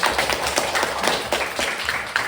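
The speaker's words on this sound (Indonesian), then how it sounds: "Tepuk tangan dulu." Students in a classroom clap together for a classmate's answer, a short burst of close, loud, slightly uneven clapping from a small group.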